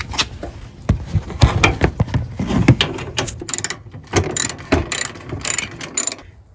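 A ratchet wrench with a 5/16 socket loosening a headlight screw on a Ford Five Hundred, close-up bursts of rapid clicking in several runs with short pauses between them.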